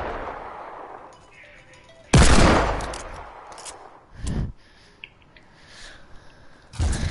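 Gunfire in a shooter video game: a loud, sustained blast of shots that fades slowly, then a shorter burst a couple of seconds later and another sharp volley at the end, with no talking.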